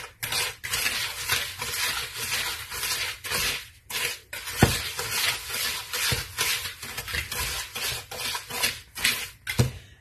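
Sugar is mixed into melted butter in a bowl, a spoon scraping and clinking rhythmically against the sides in quick repeated strokes, close and continuous, with no talking.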